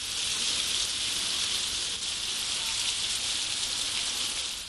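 A heavy downpour lasting about an hour in the Marathwada region roars as a dense, constant hiss of rain, loud and unbroken, with no voices.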